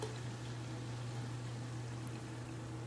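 Club soda poured steadily into a measuring cup in a home kitchen, a continuous close fizzing, trickling stream with a low steady hum beneath, no voices.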